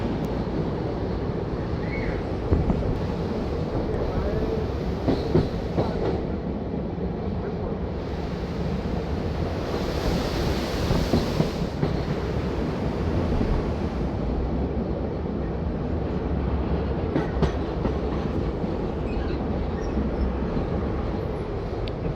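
The Teesta Torsa Express crosses a barrage at night with a loud, continuous rumble, mixed with rushing wind and the roar of water below, holding steady for over twenty seconds.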